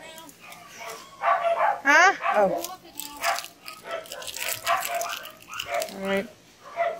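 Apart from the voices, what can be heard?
dog barking in the kitchen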